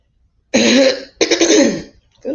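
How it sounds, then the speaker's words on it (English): Two loud, gravelly throat clearings in quick succession, close up, followed by the start of a third. "I gotta clear my throat before I do this podcast now"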